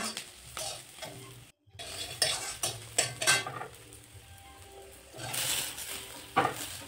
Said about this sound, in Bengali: পেঁয়াজটা লাল হয়ে গেছে, এবার আমি এর মধ্যে সবজিগুলো দিয়ে দিচ্ছি।